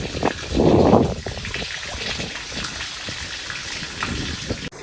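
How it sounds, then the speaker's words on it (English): Water leaks from a rusted spillway pipe, with a steady trickling, gushing hiss near and moderately loud, swelling briefly in a louder splashing burst early on. "We've got a pretty significant leak in the spillway pipe."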